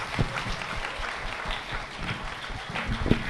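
A church congregation at a Sham-e-Calvary program breaks into applause, a brief, lively burst of clapping with a few sharper individual claps.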